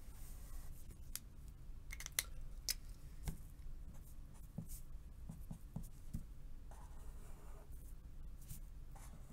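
A pen drawing on paper, quiet irregular scratching strokes with short sharp ticks and pauses, close up, no talking.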